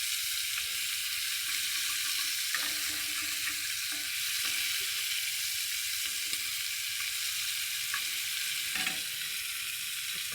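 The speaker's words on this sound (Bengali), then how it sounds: "আর চিংড়ি মাছটা আমার ভাজা হয়ে গেছে" Shrimp sizzle and fry in a pan with a steady bright crackle, and occasional stirring clinks cut through now and then. The sound stays close and continuous, with no talk over it.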